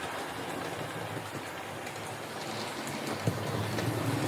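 A Hornby or Bachmann OO-gauge Class 4MT 75000 model steam locomotive runs on track with a soft, steady rolling hum and light clicks, quiet and continuous throughout with no talking.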